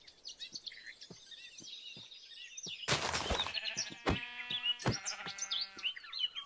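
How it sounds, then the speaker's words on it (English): Sheep bleat in the video game Minecraft. A loud bleat stands out partway through, with another after it, set among chirping birds and light clicks. "Mining the sheep."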